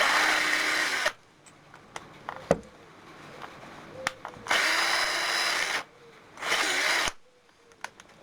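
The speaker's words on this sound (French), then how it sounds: "je serre et je peux percer le trou ici" A power drill bores a hole for a homemade lamp in three loud bursts of whirring, separated by quieter pauses with small clicks and handling noises.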